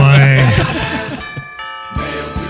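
A doorbell-style ding-dong chime plays as a sound effect on a talk show, with a bright tonal ring over busy background noise, followed by a brief quiet gap and further chiming.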